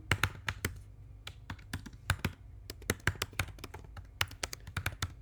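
Credentials typed on a computer keyboard: a quick, uneven run of crisp key taps, close and fairly quiet, clustered in short bursts with brief pauses, no speech over it.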